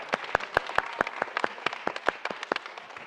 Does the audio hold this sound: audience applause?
yes